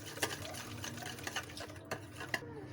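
Roasted spices, salt and crushed red chilli beaten together in a bowl, a run of quick clicking and tapping strokes, fairly close, with a steady low hum underneath.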